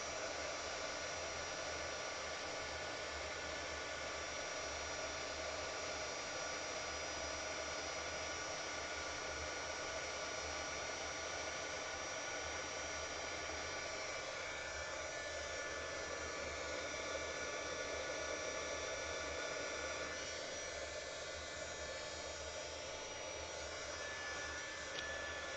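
A heat embossing tool blows a steady, even whir of hot air over resin-coated pressed cardboard coasters, a constant hair-dryer-like drone that runs unbroken with no speech.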